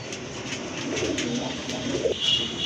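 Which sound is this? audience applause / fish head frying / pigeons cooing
pigeons cooing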